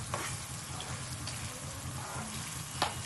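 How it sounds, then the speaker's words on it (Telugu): Water is poured into a simmering curry in a pan, with the oil already risen to the surface; a steady, moderately loud wash of liquid and sizzle continues throughout, with a brief sharper splash near the end. "మనం కొంచెం అంతా వాటర్ వేస్తాం"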